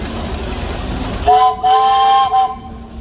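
A steam traction engine's whistle sounds once, loud and close, a sustained tonal blast of about a second over a low rumble at a steam engine show in Sycamore, Illinois.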